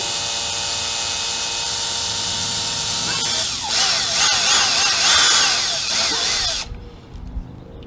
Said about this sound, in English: It should still drill regardless of the speed.